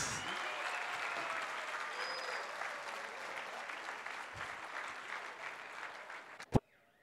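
Sustained crowd applause for the first couple at a collective wedding ceremony, steady many-handed clapping that slowly tapers, ending with a sharp knock near the close.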